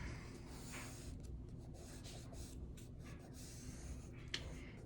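Pencil or pen drawing and redrawing on paper, a continuous soft scratchy rubbing with short strokes, close and fairly quiet, with no talking.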